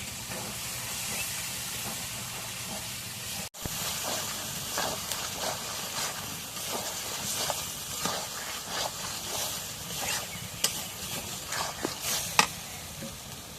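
Pigeon meat is stirred as it cooks in a pot: a soft, steady steamy hiss runs throughout, broken by scattered scraping clicks and taps from the utensil, fairly quiet and with no voices.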